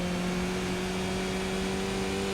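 Race car engine in the iRacing sim, a Skip Barber car on the Oran Park moto track, droning steadily as it works up into fifth gear, a close, continuous, fairly loud hum throughout.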